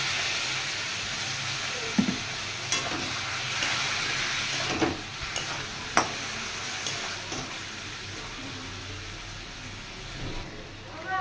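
Ground cumin, coriander and black pepper frying in a pan with a splash of water added, a steady soft sizzle and hiss with occasional stirring scrapes, while a person talks over it.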